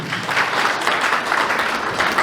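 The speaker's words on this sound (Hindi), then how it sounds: "एक बार उन सब के लिए जोरदार तालियां होनी चाहिए" Steady, dense applause from an audience at a Jain youth association event at the Shangrila Resort and Water Park in Bhiwandi, sustained and fairly loud for the whole stretch with no talking over it.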